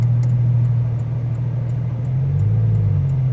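A Porsche GT3 RS fitted with a Dundon exhaust idles with its exhaust valves closed, holding a steady, low, close-up rumble that barely changes pitch, with no one talking.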